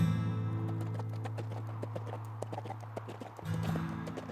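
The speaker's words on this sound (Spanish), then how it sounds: "Enfila su caballo hacia el norte." Horse hooves clip-clop steadily as a sound effect for a rider heading north in a western tale, the regular hoof beats laid over a low sustained drone, moderately loud and without talk.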